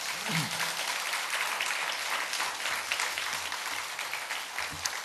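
Church congregation applauding during an Easter revival service, a dense steady clapping from the full room that carries evenly from start to finish.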